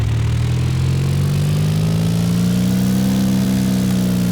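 Aircraft engine in the X-Plane flight simulator revving up, a loud steady drone whose pitch climbs gradually as RPM rises, heard alone without talk.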